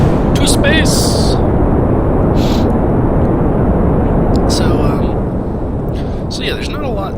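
A rocket engine roars at launch in Kerbal Space Program as a crewed craft throttles up, a loud, dense, unbroken roar filling the whole stretch with a few brief higher tones flickering over it.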